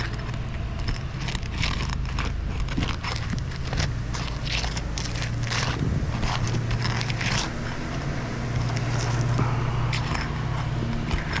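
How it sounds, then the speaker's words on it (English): Roof shingles being pried unsealed, with granules popping off: dense, close crackling, scraping and snapping bursts that run continuously over a low background rumble, with no talking. "we're going to be just unsealing the shingle here, here, and here to be able to get to those fasteners"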